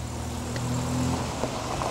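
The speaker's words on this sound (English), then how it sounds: "Of Gilbert, recognise this flamboyant driving style anywhere" A car is driven up in a showy manner, its engine giving a steady low hum that fades after about a second, followed by faint background noise.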